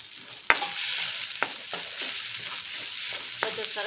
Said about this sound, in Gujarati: આ બધું સરસ આપણે 1-2 મિનિટ માટે સાતળી લેવાનું છે.